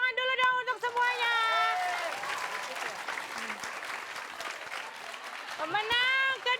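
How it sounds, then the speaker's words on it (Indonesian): A studio audience at a comedy show claps in a sustained burst of applause, with voices heard briefly before and after the clapping. "Ya, tepuk tangan dulu dong untuk semuanya."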